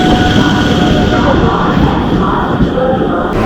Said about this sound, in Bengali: বেলুড় থেকে ট্রেন ছাড়লো